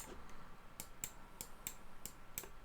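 A computer mouse clicks while a model is sculpted in Meshmixer, giving a series of about seven sharp, quiet clicks at a steady pace over faint room noise.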